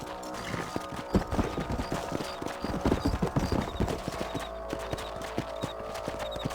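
Horse hooves clip-clop steadily in the Red Dead Redemption game while riding across a ranch, a dense rhythmic trot of moderately loud hoof falls over faint ambient outdoor sound.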